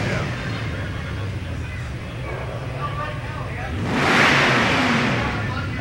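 A car engine hums steadily on a town road during a parade, then swells into a louder rev near the end, heard through broadband traffic noise with voices talking over it.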